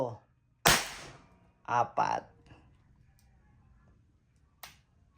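Umarex T4E TR50 revolver fired indoors with a sharp, loud crack, followed by someone speaking briefly and a second fainter crack near the end.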